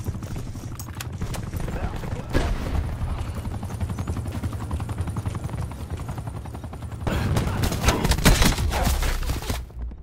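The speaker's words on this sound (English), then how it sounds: "Attack chopper standing by." Attack helicopter in the Black Ops 4 video game: a steady rotor drone runs throughout, mixed with bursts of gunfire and loud game effects that swell toward the end.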